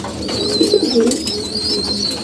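Low, soft cooing from pigeons close by, a few throaty murmurs over a faint background hum, with no speech.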